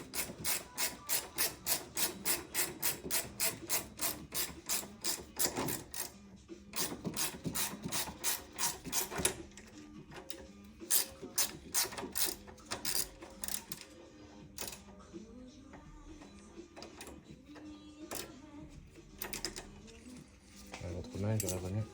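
A Torx key turns a screw while fitting the clutch on a phase 1 Citroën C3, giving a long rapid series of close metallic ratchet clicks that becomes irregular and sparser, with faint talk underneath.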